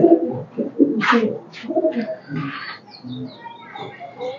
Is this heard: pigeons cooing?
yes